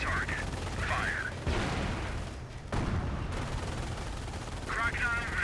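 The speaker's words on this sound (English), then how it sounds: "Cannon on target. Fire." Heavy battlefield gunfire and explosive cannon blasts from a tank in the Company of Heroes video game fill the scene continuously and loudly, with radio-style unit voices speaking over the combat.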